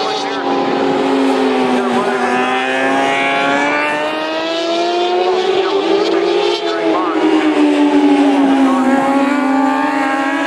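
Race cars at a 2009 race meeting roar past in a sustained, loud engine drone that rises and falls in pitch as they go around, with a steady wash of noise throughout and no pauses.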